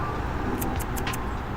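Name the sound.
cars passing by at a rest stop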